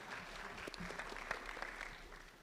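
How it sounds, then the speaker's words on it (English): A small live audience at a podcast recording claps softly and steadily, heard faint and somewhat distant throughout. "Round of applause for Austin Hoyle"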